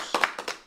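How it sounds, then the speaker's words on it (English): A handful of sharp, separate claps in quick succession, close and fairly loud, spaced unevenly with brief gaps between them. "can we get a round of applause for the bag chasers that's in the building?"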